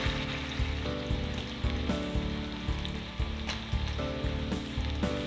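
Spicy pork chops sizzling in a pan, a steady moderate crackle running beneath recurring tonal music with regular beats, fairly quiet overall.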